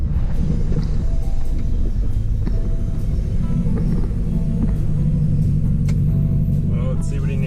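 A pickup truck towing a small trailer loaded with a side-by-side pulls away, its engine giving a steady low rumble with road noise throughout, heard close and fairly loud.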